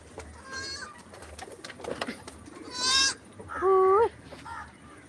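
King pigeons on a farm giving a few short, throaty coos, with louder calls near the end against quiet background rustling.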